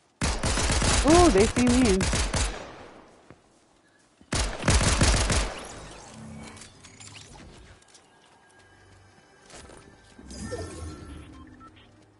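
Loud bursts of rapid gunfire in Fortnite, a dense volley at the start and another after a short gap, then quieter scattered game noises, with a person speaking briefly over the shots.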